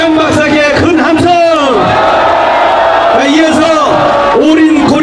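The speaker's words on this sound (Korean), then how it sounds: "우리 이해람 박사께 큰 함성" A crowd at a political rally roars and bellows in repeated loud waves of cheering and shouting, voices rising and falling close by.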